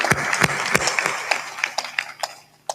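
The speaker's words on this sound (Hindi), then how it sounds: "ताली बजाओ।" An audience applauds at a gathering, with a dense burst of many hands clapping close by that thins out into scattered claps as it fades.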